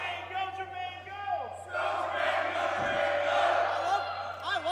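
Wrestling crowd at a championship match, cheering and chanting that swells after a brief quieter stretch into a sustained loud roar, with some voices standing out.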